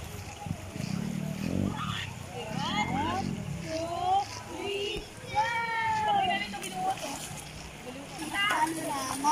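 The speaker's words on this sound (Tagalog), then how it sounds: "Habang naliligo sila, naglalaro din po sila dito." Children bathing and playing in the pool below Puray Waterfalls in Rizal, Philippines, splash water over a steady rush of falling water, while kids' voices and chatter run through the whole scene.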